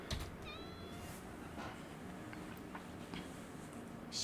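A cat character in the video game Copycat meows once, a short, clear cry over a quiet, faintly noisy game background with a few soft ticks.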